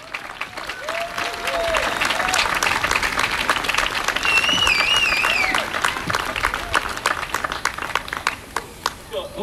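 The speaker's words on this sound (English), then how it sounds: "Let's give them a round of applause." An audience at a Juneteenth community gathering breaks into sustained applause, many hands clapping densely for several seconds before thinning to scattered claps, with a few cheers and voices mixed in.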